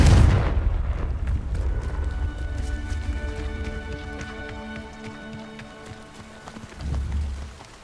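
A Confringo fire spell exploding in the video game Hogwarts Legacy, a loud booming blast at the start with rumbling low-end and lingering tonal effects, then a second heavy thud near the end.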